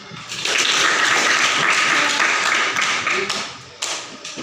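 Continuous applause in a classroom guidance session, many hands clapping at once in a dense, steady patter that holds for several seconds.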